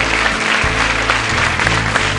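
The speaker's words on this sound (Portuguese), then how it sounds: "Mais palmas para ele." An audience applauding after a school theatre club's prize-winning stage performance at Culturgest, a dense, steady wash of many hands clapping at once, loud and continuous, with a low musical hum underneath.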